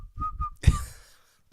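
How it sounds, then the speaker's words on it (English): A person whistles two short, clear high notes close up in a quiet room, followed by a brief rustling noise. "Please don't whistle when you do that."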